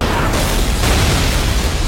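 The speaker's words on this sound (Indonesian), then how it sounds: "Tiba-tiba terjadi ledakan di lokasi." A sudden explosion at a location in a film, a loud sustained broadband roar of blast and rumble filling the whole moment before cutting off abruptly.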